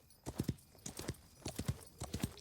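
Horse hooves clip-clop at a steady, lively gait in the Wild West Online video game, with quick paired strikes repeating close by and no talk.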